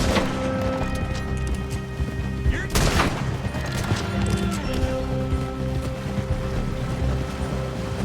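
Gunfire in the video game Red Dead Redemption, with a burst of close shots over galloping hooves and a dense, continuous game soundscape, loud throughout.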